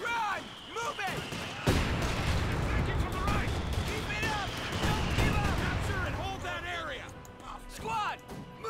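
Gunfire and explosions crackle and boom through a Company of Heroes 2 battle, with rapid bursts of shots and heavier blasts. Soldiers' voices shout over the combat almost continuously.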